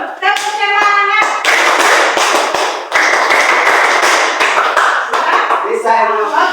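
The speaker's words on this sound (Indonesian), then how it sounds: "Udah, tepuk semangat dulu." Schoolchildren in an Indonesian classroom doing a rhythmic spirit clap, several bursts of sharp group claps in quick patterned beats with children chanting along between and over them, loud and close.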